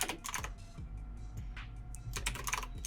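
Typing on a computer keyboard to enter a console command in Modern Warfare 2, with bursts of rapid, close key clicks and short pauses between them, and no voices.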